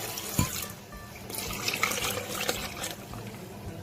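Two glasses of water poured into a blender jar while making a drink with sugar, salt and lemon juice, a steady close splash and gush with no voices.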